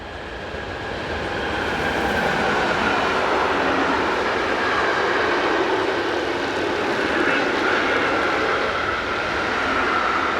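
A locomotive-hauled train, class 145 electric locomotive 145062, passes eastbound on the Hannover–Magdeburg main line, a loud broad rumble and rolling roar that builds over the first two seconds and holds steady throughout with no talk.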